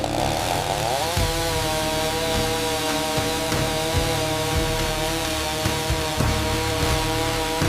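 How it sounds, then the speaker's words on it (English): A chainsaw runs hard throughout, loud and close, its steady engine whine dipping and surging as the bar cuts into the rim of a large redwood vase on a factory floor; no voices. "A craftsman fires up a chainsaw and expertly plunges it into the rim"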